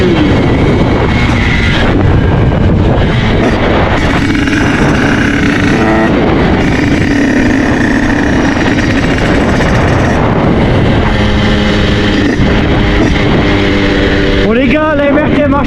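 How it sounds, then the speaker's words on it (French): An MRT Trophy 86 motorbike engine with a twin exhaust starts and warms up, its loud continuous drone and revving filling the whole stretch, with a rising pitch sweep near the end. "la MRT marche très bien, on l'a fait chauffer un peu"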